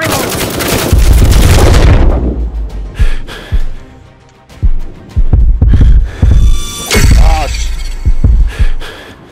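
Gunfire in the PSVR shooter FireWall Zero Hour crackles in dense bursts, first a long sustained volley and then short repeated bursts, loud and close, with players' voices mixed in.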